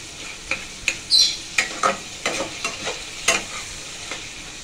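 Tomatoes sautéing in oil in a pan, with a faint sizzle under a string of crisp, irregular spatula strikes and scrapes, close and clear, one brief metallic ring among them.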